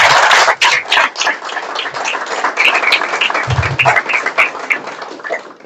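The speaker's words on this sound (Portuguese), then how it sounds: "Uma salva de palmas." Loud, uneven clapping from a studio audience greeting guests on a Mozambican broadcast, with bursts rising and dipping and a few sharper claps, lasting several seconds.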